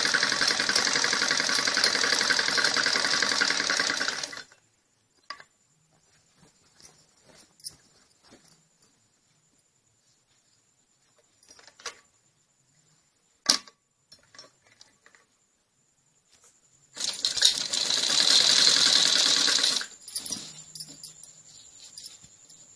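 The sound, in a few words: sewing machine stitching salwar belt seam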